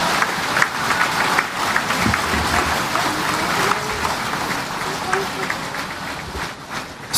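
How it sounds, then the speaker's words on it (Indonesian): Applause fills a large assembly hall during a parliamentary session, a steady wash of clapping from a big crowd with a voice speaking over it throughout. "Sudah cukup tepuknya."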